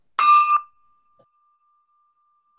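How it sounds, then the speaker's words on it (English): A single bright bell ding with a clear metallic ring that fades into a long, thin sustained tone, followed by a brief faint tap at the end. "Ring in the bell."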